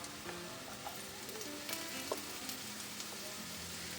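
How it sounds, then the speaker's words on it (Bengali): Chopped carrot frying with onions in a pan gives off a soft, even sizzle that stays low and constant, with a few faint clinks in the background. "এর মধ্যে কেটে রাখা গাজরটা একটু ভেজে নেব"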